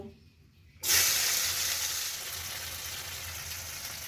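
Spices and onions hit hot oil in a pan while chicken curry with potatoes is being cooked. A sudden loud sizzle bursts out, then settles into a steady, close frying hiss.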